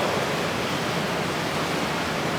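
Water pouring continuously over the lip of an edgeless infinity pool, an even broadband rush heard close and alone with no voices.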